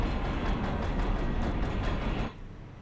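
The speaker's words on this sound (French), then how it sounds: "Est-ce que c'est les trains de la mine de Resident Evil 4?" A shuttle train running in the Resident Evil 2 remake video game, a loud continuous rumble with rhythmic rattling that drops off sharply near the end, leaving a quieter hum.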